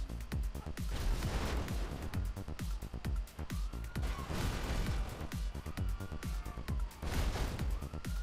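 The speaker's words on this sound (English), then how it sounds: "the machine gun on top of the Rhino tank in GTA 5" Rapid machine gun fire from the turret of a Rhino tank in GTA 5, a steady loud stream of shots for several seconds, with a siren wailing faintly in the background.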